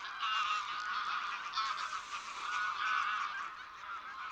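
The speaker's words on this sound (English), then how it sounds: "when the sky is full of wild geese" Wild geese call at the Villafáfila wetlands in Spain, a dense, continuous chorus of overlapping honks from a large flock, fairly loud and steady throughout.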